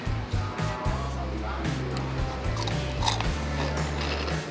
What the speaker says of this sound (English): now let's dig into these little curly fries